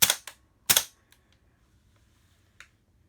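A gas blowback airsoft gun fires two sharp, close pops in quick succession, followed by a few faint mechanical clicks and a last small snap in an otherwise quiet room.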